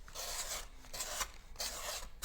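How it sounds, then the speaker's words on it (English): Scraping and gouging at a textured wall where hot glue had been, three bursts of harsh raspy rubbing with short pauses between, close and fairly loud with no voices. "I gotta really gouge into the place where there was glue."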